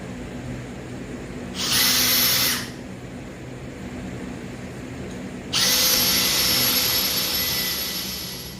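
Power drill boring a hole through a steel vehicle frame while fitting air suspension, two loud steady whirring bursts separated by a quiet pause, close by with no talk.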